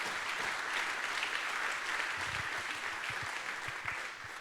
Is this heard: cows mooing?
no